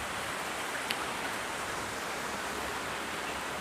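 Steady rain during the rainy season falls as a continuous even hiss, moderately loud and unbroken, with no voices over it.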